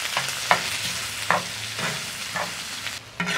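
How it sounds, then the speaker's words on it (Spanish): Ground beef sizzles and browns in a pan for ranch-style picadillo, a steady close frying hiss broken by regular scraping stirs about every second, no talk. "La voy a dejar dorar porque con la carne doradita está más bueno el picadillo"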